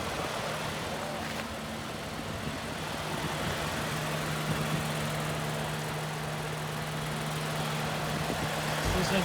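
A 2017 Toyota Sienna XLE all-wheel-drive minivan idles with its hood open, giving a steady, smooth, even engine hum that stays constant throughout at close range.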